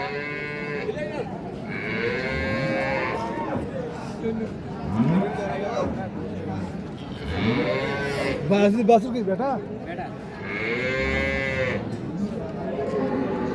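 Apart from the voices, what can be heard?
Sahiwal Sindhi cow and calf mooing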